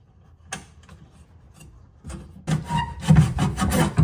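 A metal bolt is pushed and slid through lined-up mounting holes on the bed rails of a Ford Raptor truck, first faint scraping taps and then louder rubbing and rattling metal contact close by.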